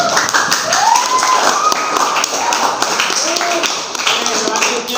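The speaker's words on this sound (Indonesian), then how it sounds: "aplaus untuk kelompok 3" Group of students clapping in a classroom, a brisk, steady patter of applause lasting several seconds with voices talking over it.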